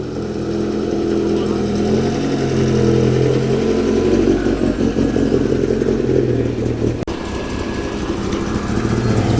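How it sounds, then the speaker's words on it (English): A Triumph TR3A classic car arrives at a classic car gathering, its engine giving a loud, steady, close rumble that briefly dips near the end before carrying on. "The local Triumph TR3A has arrived."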